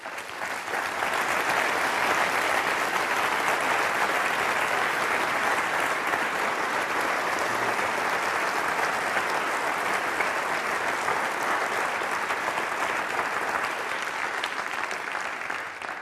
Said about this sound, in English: We're going to measure the applause after my talk also.